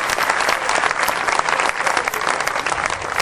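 Sustained applause from an audience at a Hindi poetry recital, a dense, steady clatter of many hands clapping without pause, loud and close.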